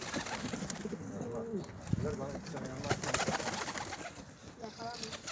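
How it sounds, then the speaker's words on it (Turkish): Pigeons coo softly and repeatedly amid background bustle and some indistinct voices, the low burbling calls rising and falling throughout, at a pigeon loft. "bir tane kuş indirdi"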